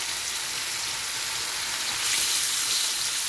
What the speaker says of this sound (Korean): 기름에 불이 붙어졌습니다.